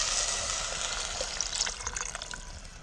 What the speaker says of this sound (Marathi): भाताला जेवढं पाणी लागेल तेवढं पाणी घालायचं